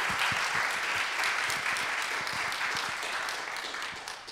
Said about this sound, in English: just a round of applause for our graduates this year.